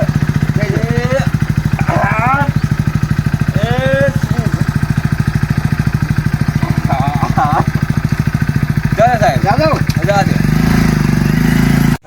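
A tractor engine chugs steadily nearby with a low, even throb throughout, while people talk over it.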